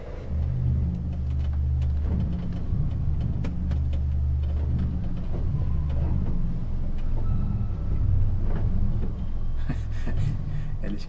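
Deep, sustained rumbling notes from a Rieger pipe organ in St. Katharinen church carry the carol Ihr Kinderlein kommet in a low register, a continuous droning melody with steady loudness throughout.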